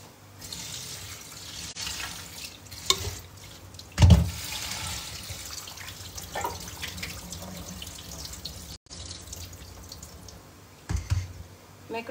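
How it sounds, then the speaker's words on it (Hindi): Cold tap water runs steadily over boiled macaroni in a strainer in a home kitchen, a continuous splashing rush with a few louder bursts and brief breaks. "अब हम इसको ठंडे पानी से वॉश कर लेंगे।"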